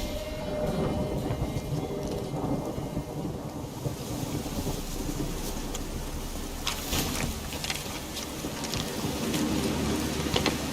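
Steady heavy rain pours with rolling thunder rumbling through a storm in The Witcher 3, a dense continuous wash of sound with no talking.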